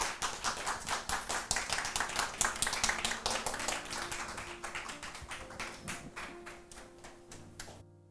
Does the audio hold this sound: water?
no